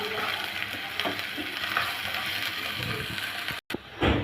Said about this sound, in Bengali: এখন দিয়ে দিব আদা রসুন বাটা, একটু পেঁয়াজের সাথে ভেজে নেব যাতে কাঁচা গন্ধটা দূর হয়